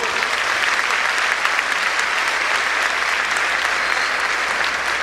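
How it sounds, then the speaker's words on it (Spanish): Church congregation applauds during a Spanish-language Catholic Mass in a steady, dense wash of many hands clapping. The applause is sustained and even throughout, with no talk over it. "Un aplauso a la palabra del Señor."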